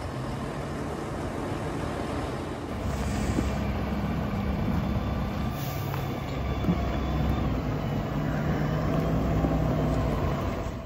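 A large Fendt 828 Vario tractor runs close by with a low, steady engine rumble that grows louder and fuller after a few seconds, then holds.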